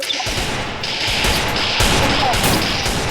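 Gunfire in the Free Fire mobile battle game, with dense, loud rapid shots and crashing bursts packed together across the whole moment, and a voice talking underneath.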